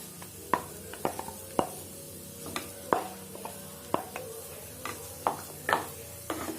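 Mashed boiled potato is worked into a spiced masala in a pan: sharp spatula scrapes and taps land roughly once a second over a soft background sizzle, close and unaccompanied by voices.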